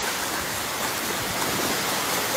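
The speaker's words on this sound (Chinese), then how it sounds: "凯米台风袭台，带来强烈雨势" Heavy typhoon rain pours down in a dense, unbroken hiss during flooding in Pingtung, Taiwan, loud and steady throughout with no voices.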